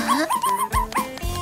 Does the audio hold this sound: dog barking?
yes